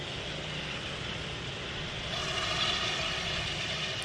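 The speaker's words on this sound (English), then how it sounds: "British Airways A319 heading down to London Heathrow." A British Airways A319 airliner heading to London Heathrow produces a steady jet roar near Manchester Airport that swells slightly louder partway through, with no talking.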